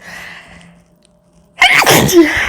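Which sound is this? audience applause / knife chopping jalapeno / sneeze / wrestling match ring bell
sneeze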